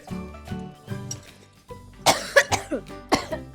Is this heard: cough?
yes